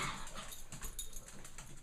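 Faint dogs near a batch of caramel popcorn give soft whimpers and small snuffling noises, quiet and close, with no talking.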